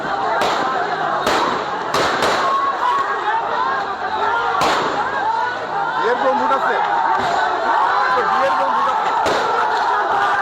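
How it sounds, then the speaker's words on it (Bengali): Police fire sound grenades and rubber bullets during a clash with protesters in Kushtia, Bangladesh: a series of sharp, loud bangs sounds over continuous crowd noise and shouting voices. "rubber bullet rubber bullet police sound grenade দিচ্ছে"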